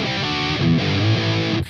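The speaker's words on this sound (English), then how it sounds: "one more fill that we have in the 4th verse sounds like this" A short burst of heavily distorted electric guitar plays a fourth-verse fill from a song, thick sustained notes and double stops, loud and close, cutting off suddenly.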